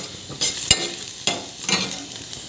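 Garlic sizzling in hot oil in a kadai, a loud, close crackling hiss broken by several sharp stirring scrapes and bursts, with no talking.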